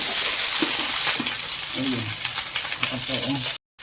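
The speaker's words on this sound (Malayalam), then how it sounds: "നമുക്ക് ഈ വെണ്ടയ്ക്ക ഒന്ന് റോസ്റ്റ് ചെയ്തെടുക്കണം" Okra (bhindi) roasting in a hot pan for a paneer bhindi curry gives a steady close sizzle, with faint voices in the background, before a sudden drop to silence near the end.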